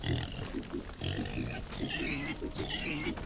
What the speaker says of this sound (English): Ah, pig's on fire.